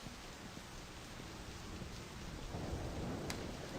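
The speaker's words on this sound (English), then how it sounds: "it's been raining since like the end of recording last episode" Steady heavy rain with rumbling thunder in the video game My Summer Car, a dense continuous downpour with no voices.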